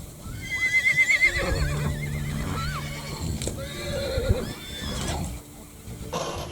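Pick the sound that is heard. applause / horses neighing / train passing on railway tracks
horses neighing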